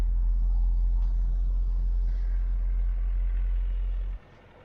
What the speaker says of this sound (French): Petit ronvissement sympa de cette Jaguar.